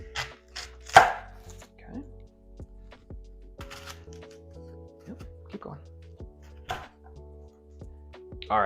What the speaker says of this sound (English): then we're going to julienne it